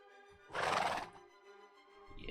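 A horse in GrainCraft lets out a short, loud whinny, followed by quieter shuffling hoof sounds.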